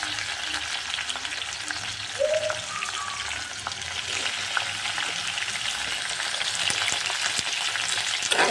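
Tomatoes frying in a pan with green chillies for mint chutney, giving a constant close sizzle with occasional soft stirring clicks and no voices.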